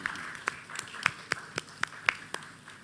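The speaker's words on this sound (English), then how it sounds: "Can we give them a round of applause?" An audience at a law conference gives a round of applause that comes across as sparse, scattered handclaps, about a dozen distinct sharp claps at an uneven rhythm, fairly faint.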